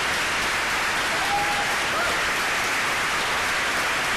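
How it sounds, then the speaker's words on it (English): A party conference audience gives sustained applause, a steady wash of many hands filling the whole stretch, dense and even like heavy rain. "I'd like conference to join me in applauding these wonderful people"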